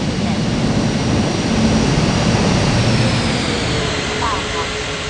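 A jet airliner taking off in an air traffic control video game, a loud continuous engine roar with a low rumbling body, while voices talk beneath it.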